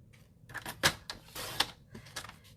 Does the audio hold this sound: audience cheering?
no